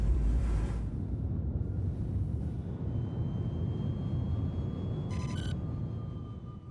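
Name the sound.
spaceship taxiing in to land, from video game Star Citizen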